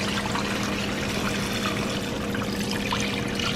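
Whey pours steadily through a cheesecloth-lined colander while separating cheddar curds, a continuous close watery splashing and trickling with no talking.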